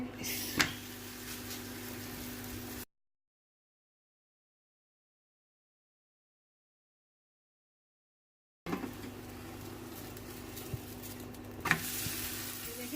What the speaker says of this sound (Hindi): इस पे पहले हम इस तरीके से ऑयल का वो छिड़काव देंगे। उसके बाद जो है हम ये पराठा इस पे डालेंगे।